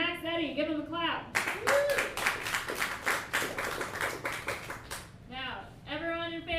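A studio comedy-show audience claps to vote for a contestant, a loud burst of many hands that starts suddenly, runs about four seconds and then stops, with speech before and after it.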